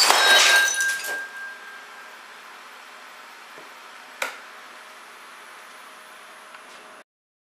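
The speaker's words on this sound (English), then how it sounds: "that marble completely blew the stack of 4 tiles to bits" A glass marble fired from an air cannon at about 400 psi near Mach 1 smashes a stack of four ceramic tiles: a loud sharp shattering burst with crackling debris, then quieter scattered tinkles and one later clink.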